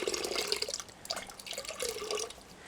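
Warm water poured from a kettle into a bowl of coconut cream while making a bulk batch of English muffins, a soft, splashy trickle that comes in short bursts, quiet and close.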